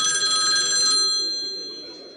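A video game phone rings, a steady electronic bell tone with bright ringing overtones that fades gradually, heard close and alone.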